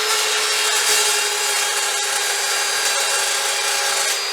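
A saw blade cuts through bar aluminum under test. The sound is a steady, loud, continuous high-pitched grinding and cutting whine that holds for the whole span without a break.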